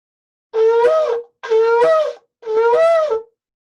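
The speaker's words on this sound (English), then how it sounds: "You see how it was three broken notes," Three separate medium-length shofar blasts in a row, the shvarim, each steady and loud with short gaps between them.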